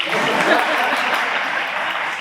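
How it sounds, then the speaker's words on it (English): Audience applause at a community open house on a corridor redevelopment project, a steady, dense wash of clapping from many hands that stays loud and even throughout. "y'all can clap for me"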